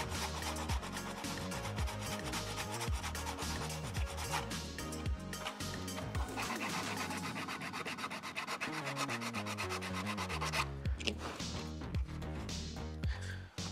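Steady rhythmic rubbing of a sandpaper straight edge across ABS plastic on a Scout Trooper helmet build, close and continuous back-and-forth scraping strokes with no talking.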